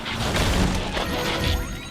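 Mines exploding in the Transformers: Devastation video game, a dense, loud, crashing burst of blasts and debris with overlapping booms and no talk.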